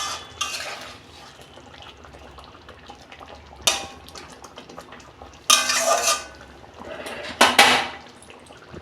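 Cooked sarpunti fish curry topped with curry leaves being poured out of a pan, bringing several close metallic scrapes and clatters of pan and utensil with short wet sloshing bursts, spaced irregularly over a quiet background.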